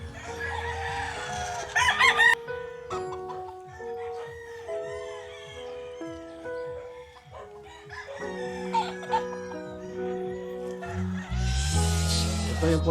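Roosters and hens on a game farm crow in repeated long calls over steady clucking, several birds near and far overlapping throughout.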